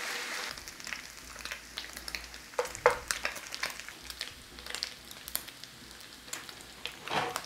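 Bacon crisps in olive oil in a pan with a steady crackling sizzle, sharp pops and spits rising over the frying now and then, close and fairly quiet.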